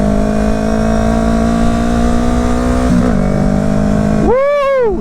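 A motorcycle engine idles with a steady, loud drone, then revs up sharply near the end as the ride begins, alone with no talk.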